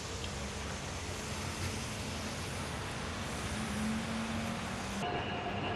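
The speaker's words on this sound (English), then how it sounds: "Why, it's a tram!" A single-car tram rolling down a street in Hakodate, Hokkaido, Japan, a steady close rumble of wheels on rails with a faint squeal near the end, heard alone without talk.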